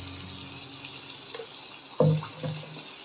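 Kandhar appam batter frying in hot oil over a medium flame gives a steady close sizzle and hiss, with a louder burst of bubbling about two seconds in as more batter hits the oil.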